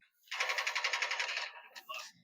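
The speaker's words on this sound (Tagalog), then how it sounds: "Parang malakas yung baril niya." Rapid automatic gunfire in Call of Duty rattles in a fast, even burst of about a dozen close, loud shots, followed by a few scattered clicks and metallic sounds.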